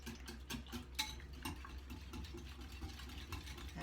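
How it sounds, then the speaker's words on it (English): A whisk clicks and scrapes against a bowl as egg mixture seasoned with nutmeg and pepper is beaten for a broccoli and cheese dish, quick rhythmic taps over a low steady hum. "We're going to whisk this together"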